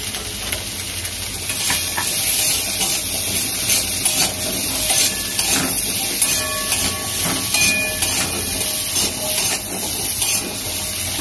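Potatoes fry in hot oil with turmeric, giving a loud, continuous sizzling hiss with crackles and occasional stirring, close up and without talk.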